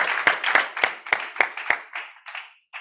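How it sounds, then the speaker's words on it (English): Live crowd applauding and cheering for a contestant at a bonus-day challenge event, a run of sharp bursts of clapping that fade out over a few seconds. "Give it up one more time, crowd, for Anthony."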